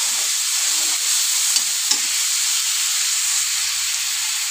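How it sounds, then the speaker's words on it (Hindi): Ground onion paste sizzles and fries in a pan with a steady, loud hiss, broken by a few soft stirring scrapes, close up and without talk. "इसे चलाएंगे और इसे हम 2 मिनट के लिए भून लेंगे।"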